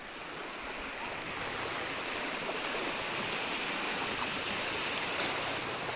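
Water of the Shetrunji river flows steadily in a knee-deep stretch along the bank, making a continuous close wash and rush that holds at an even level throughout.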